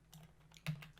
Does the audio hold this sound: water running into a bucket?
no